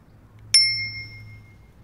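A single bright ding from the handlebar bell of an Eleglide M1 Plus electric bicycle rings once, clear and close, then fades out over about a second in a quiet room.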